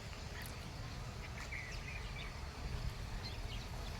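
Sparrows chirp in short, scattered calls around a freshly filled water spot outdoors, set against a steady broadband hum of outdoor noise; the calls are faint and sit at a moderate distance.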